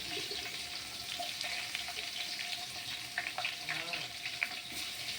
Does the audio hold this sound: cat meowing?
no